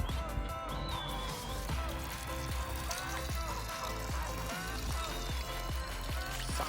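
Cold water runs steadily from an outdoor tap beside a village house in Russia, a continuous near splash with faint voices in the background.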